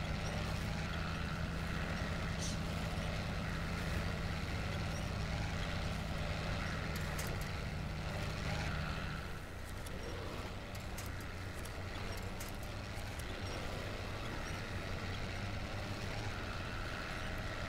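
A heavy truck engine in the off-road driving game SnowRunner drones steadily at a loud, constant level, its low rumble shifting slightly about halfway through, with no talking.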